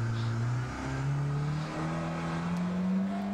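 A car engine revs and drops through gear shifts, loud and close, as the car drifts in the Assetto Corsa racing game.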